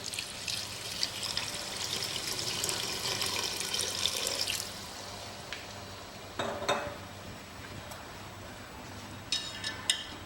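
Water pours into a pan of chicken curry as it cooks. A steady rushing pour lasts about four seconds, then stops, followed by a few scattered clinks of utensils on cookware nearby.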